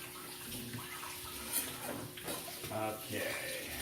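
Tap water runs steadily while produce is rinsed in a kitchen for pico de gallo. The running-water hiss is constant and close, with people talking over it.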